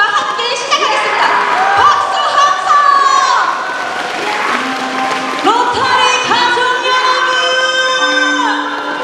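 A concert audience cheers, shouts and claws at the air with noise for the whole stretch, a dense and loud mass of voices, with a vocal-like tone rising out of it near the end.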